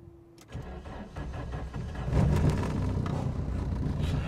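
A modified 1985 VW Golf GTI Mk2 engine cranks and catches in a noisy cabin, rising to a steady loud idle rumble that holds to the end, with no talking.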